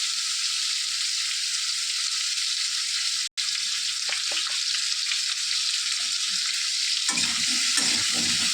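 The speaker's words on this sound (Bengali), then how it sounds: "এবার খিচুড়ি ক্যাপসিকাম আর কুমড়োগুলো সামান্য নিয়ে মানে একটু হলুদ দিয়ে হালকা হালকা ভেজে নেব" Capsicum and pumpkin with a little turmeric frying in a pan, a steady loud hiss and sizzle throughout, with a few soft stirring scrapes and a brief cut partway through.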